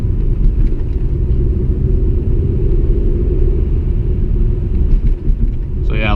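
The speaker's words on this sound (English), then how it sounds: "if you want to launch the car, it's pretty easy to do actually" A 2001 Audi S3 8L's engine rumbles low and steady from inside the car as it pulls away hard from standstill, a continuous close drone that barely changes over several seconds.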